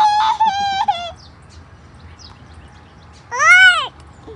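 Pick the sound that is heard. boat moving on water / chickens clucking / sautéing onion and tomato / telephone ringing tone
chickens clucking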